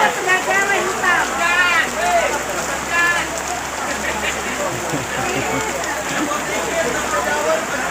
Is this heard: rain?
yes